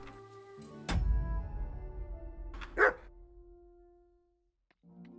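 A dog barks once sharply in the medieval role-playing video game Kingdom Come Deliverance 2, set against music and low rumbling ambience, then a brief yelp or whine follows a moment later before the scene quiets.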